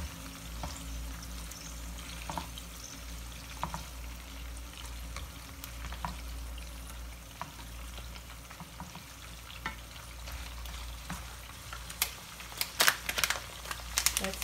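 Shrimp fry in a pan for aglio olio, a quiet steady sizzle under a low hum, dotted with scattered clicks and scrapes of stirring that grow busier toward the end, with no talking.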